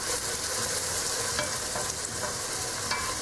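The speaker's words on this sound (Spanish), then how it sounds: "Solo es rehogar prácticamente la cebolla" Chopped onion softening in a pan for empanada filling gives a steady, close sizzle with a few soft stirring scrapes, loud and continuous with no voices.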